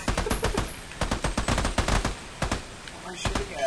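Quick bursts of gunfire from the player's weapon rattle in Army of Two, sharp repeated shots arriving in short clusters, with a voice mixed in.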